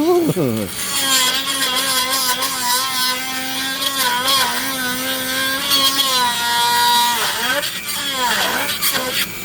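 A Dremel rotary tool carves a purple heart wood ring, its high whine rising and dipping in pitch as the burr bites into the wood, loud and close; a voice is also faintly present.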